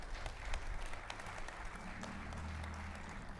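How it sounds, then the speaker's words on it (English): Audience applause at the groundbreaking ceremony for the Gateway on Broadway in Louisville, a crowd of hands clapping steadily outdoors, moderately distant and fairly quiet, with scattered sharper claps standing out. "you can clap"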